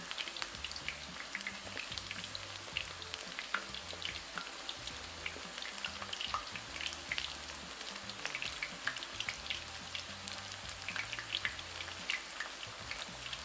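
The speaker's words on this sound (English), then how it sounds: "We're gonna continue to cook our taquitos until they're nice and crispy." Taquitos frying in hot oil until crispy, giving a dense, steady crackle and sizzle with scattered pops throughout, close and continuous, with a low intermittent hum underneath and no talking.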